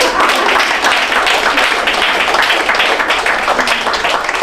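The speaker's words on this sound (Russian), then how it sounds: "А пока за тренинг актеры получают аплодисменты зрителей." Audience applauding actors after a theatre training performance, dense sustained clapping from a crowd filling the room evenly throughout.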